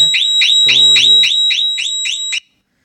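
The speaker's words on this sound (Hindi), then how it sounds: "मैंने इसे अभी टच किया था तो इसलिए ये इसका अलार्म बजना शुरू हो गया था" A mobile phone's anti-touch alarm sounds as a loud, close run of about eight evenly spaced electronic beeps, with a brief voice-like tone in the middle, then stops abruptly.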